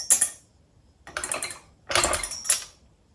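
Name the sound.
metal nut dropped down into a floor jack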